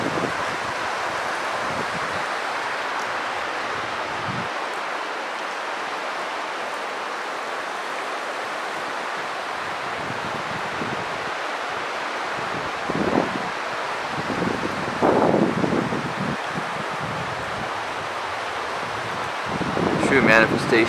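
Rushing river water pours steadily past a large pile of logs, a broad continuous roar with wind buffeting the microphone, brief knocks and footstep-like thuds near the end.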